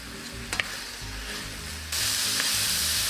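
Baby red and white onions, mushrooms and fresh bay leaf sizzle in a pan for beef stroganoff as they are stirred, a steady hiss that jumps louder partway through, with a couple of brief scraping knocks early on.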